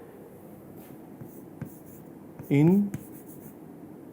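Chalk or marker writing on a board during a chemistry lecture, soft scratchy strokes at a moderate distance, with a voice speaking briefly at one moment.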